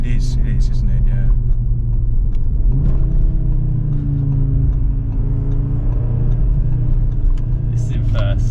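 An Audi RS3 or Golf R engine revs in first gear, a steady close mechanical drone whose pitch climbs and falls, with people talking over it.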